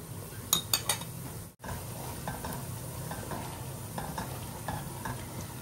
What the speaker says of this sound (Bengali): এখন আস্তা রসুন দিছন